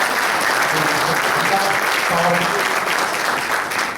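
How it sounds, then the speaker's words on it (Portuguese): An audience at a competitiveness forum breaks into a steady, full round of applause, with faint voices murmuring underneath. "vale uma salva de palmas"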